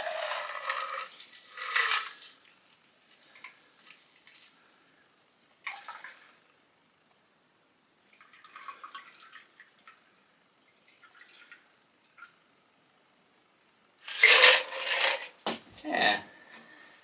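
Midori Sour cocktail pours from a shaker into a glass, a faint, sparse trickle with a few soft clinks of ice and drips, ending in a louder splash and rattle near the end.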